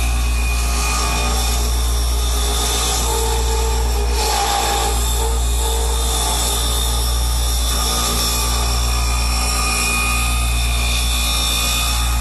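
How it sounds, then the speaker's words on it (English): Wood turning on a lathe in a home shop produces a steady, loud mechanical hum with a constant motor drone and a scraping cutting noise throughout, no voices. "That's Huang on the lathe."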